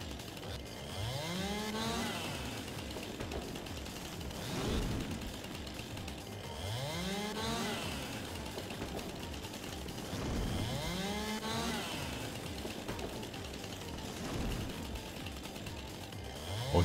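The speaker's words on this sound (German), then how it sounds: "Wir müssen die Kettensäge nochmal auspacken hier." A chainsaw cuts wood in Farming Simulator 22 on the Oberthal map, its engine rising and falling in repeated revving surges about every four seconds over a constant mechanical drone.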